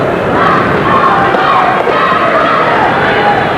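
Loud crowd of high school wrestling fans roaring and cheering throughout a tense Kansas state tournament match, a dense continuous wall of shouting voices in a gym.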